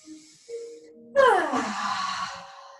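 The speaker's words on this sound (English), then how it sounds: "So big deep breath, inhale." During a mum and baby yoga class, a loud voiced breath rises sharply and then trails off into a long, wavering exhale with a moaning quality. It follows a few faint, brief vocal sounds.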